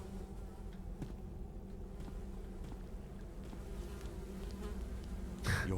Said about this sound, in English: Despite the buzzing flies, you hear the faintest sound of rushing water